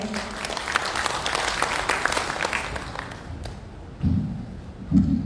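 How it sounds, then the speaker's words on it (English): Conference audience applause fills the room at a technology and coatings event, dense clapping that fades, followed by a couple of thumps near the microphone. "A round of applause, everyone."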